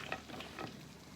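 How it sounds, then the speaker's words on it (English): A vegan bánh mì sandwich filling is stirred in a pan, giving a soft, steady sizzle with a few brief scrapes of the utensil, faint and close. "So I'm going to just give this a bit of a stir around"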